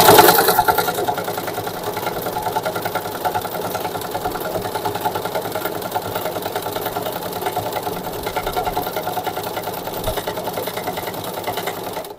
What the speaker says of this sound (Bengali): তো এটা এখন প্লাস মোডে সেলাইটা করে দেখাচ্ছি